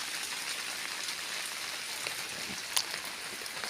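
Rain falls steadily near a mountain cave site in rural Thailand, making a dense, even hiss with scattered drop impacts and one brief sharper tap.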